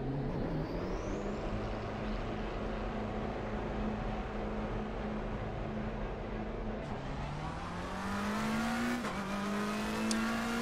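McLaren 720S GT3 Evo race car engine in the sim racing game Assetto Corsa Competizione, holding a loud steady drone before climbing in pitch as the revs build toward the end.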